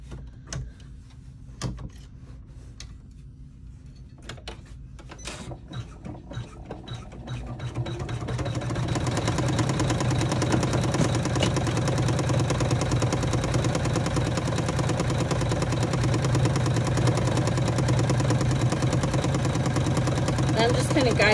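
A sewing machine topstitches a vinyl clutch, starting after several seconds of quiet handling clicks and then running as a steady, close, loud motor whir through the rest of the clip.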